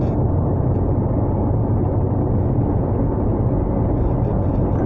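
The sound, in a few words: Mitsubishi Outlander PHEV accelerating at full throttle in EV mode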